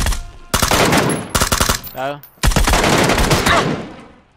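Rapid automatic gunfire from a gun in a shooter video game, loud close bursts with brief gaps between them, and a short vocal grunt heard between bursts.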